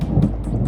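A brief rumble of thunder rolls under steady rain during a severe summer storm.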